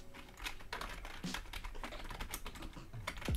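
Terminal commands typed on a computer keyboard for a Raspberry Pi 4 setup: a steady run of close, crisp key clicks with small pauses between bursts and no talking.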